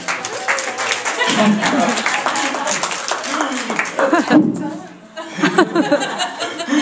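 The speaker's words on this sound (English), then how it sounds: "Please give a round of applause for Christina Antero." A grad school panel audience claps with chuckles and laughter mixed in, the applause steady, then briefly dropping before picking back up.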